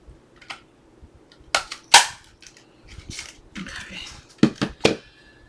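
A handheld paper punch snaps through paper as a series of sharp, separate clicks at irregular intervals, close and crisp against a quiet background.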